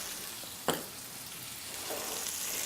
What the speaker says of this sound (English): So now we're going to add in the spring onions that I've chopped up and a pinch of salt.